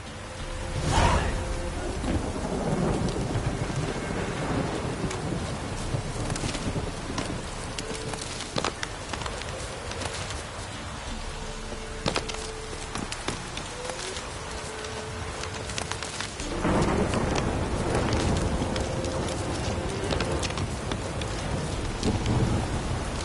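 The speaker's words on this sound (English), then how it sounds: "This downpour's a bastard," Heavy rain roars down in a dense downpour. Thunder breaks loudly near the start and rolls again later, booming over the constant hiss of the rain.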